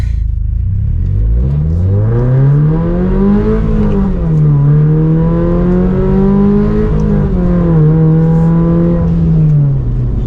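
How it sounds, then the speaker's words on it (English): A Toyota GR86 pulls hard from first gear, its engine note climbing as it revs, dipping briefly at each upshift before rising again, loud and close from inside the cabin with no talking. "let's do an aggressive acceleration from first gear"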